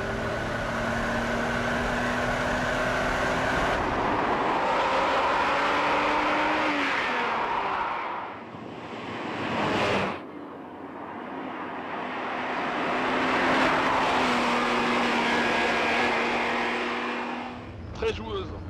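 A Ferrari Testarossa's V12 engine revs up hard and smoothly, easing off briefly before climbing again, loud and continuous from inside the car.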